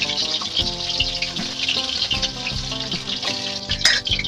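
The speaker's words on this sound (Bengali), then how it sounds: "কড়াতে তেল দিয়ে ইলিশ মাছের মাথাগুলো আমি এভাবে লাল করে ভেজে নিয়েছি।" Hilsa fish heads frying in hot oil in a wok, a dense continuous sizzle with crackles and pops, close and alone throughout.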